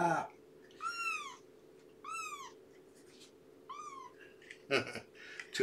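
A kitten meows three times in clear, rising-falling calls during a weigh-in, over a steady low hum, followed by brief rustling and handling noises.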